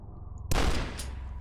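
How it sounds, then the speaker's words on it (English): A double-barrel shotgun blast in the Dusk video game cracks out abruptly after a brief low hum, a loud, broad burst followed by a long rumbling tail and a faint second snap, with no voices. "Now I have two shotguns."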